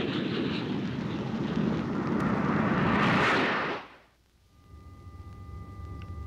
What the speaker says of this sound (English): Within minutes of the alert, Air National Guard jets are aloft in support of the Air Force mission.